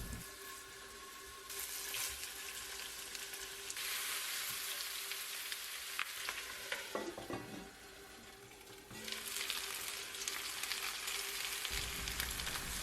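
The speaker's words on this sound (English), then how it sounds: "I'm heating up my cast iron white pan and going to first fry the drumsticks." Chicken drumsticks fry in a white cast iron pan with a dense, continuous sizzle that swells and dips over time, punctuated by a few faint clinks, with no talk.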